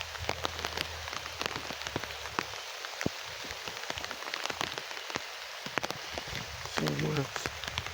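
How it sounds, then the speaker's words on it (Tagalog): Heavy rain pours steadily onto surfaces, a dense close hiss with scattered sharp drops, while a voice speaks briefly near the end. "Sabi ng lakas ng ulan dito."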